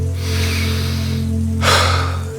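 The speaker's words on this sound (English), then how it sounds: "just take 7 deep breaths and count" A single deep breath taken during a calming exercise, a quiet airy intake followed by a stronger, rushing exhale near the end, close to the mic over a low steady hum.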